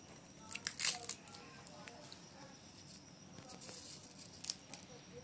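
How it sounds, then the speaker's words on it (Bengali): Crisp spicy fried pitha being broken by hand, a few sharp crackling snaps near the start and again later, fairly quiet against a soft background. "তোমরা আওয়াজটা শুনেই বুঝতে পারছো কতটা মচমচে হয়েছে"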